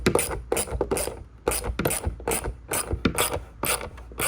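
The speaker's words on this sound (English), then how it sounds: "you stick your 3 screws, and it is a 8mm or 5/16 wrench or socket" A ratchet socket wrench snugs screws into a plastic Sea-Doo GTX cup holder, giving quick repeated clicking strokes in short bursts, close and clear with no talking.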